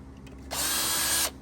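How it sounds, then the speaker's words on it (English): A power drill bores a screw hole in an Indian Scout motorcycle fender: one loud, steady whirring burst of under a second, with a quiet shop before it and no talking. "then go ahead and drill that one"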